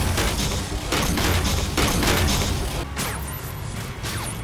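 Dense gunfire in the video game Halo 4, loud continuous bursts and booming impacts layered into a steady wall of combat noise with no talk.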